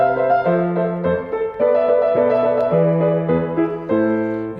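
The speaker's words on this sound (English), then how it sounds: "here's an example of a short piece by Vivaldi from his Concerto Grosso" Baroque ensemble plays an excerpt from a Vivaldi Concerto Grosso, Opus 3, its bass line stepping through a circle-of-fifths sequence under busy strings, steady and full throughout with no voices.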